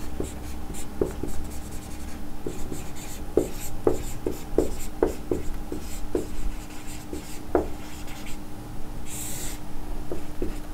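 Marker or chalk taps and scratches on a board as a math problem is written, a series of short distinct strokes with brief pauses between them.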